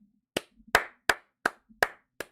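A small group claps in a sparse round of applause, six loud distinct clap bursts spaced roughly a third of a second apart, with faint low murmuring between them.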